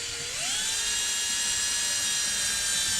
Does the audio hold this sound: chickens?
no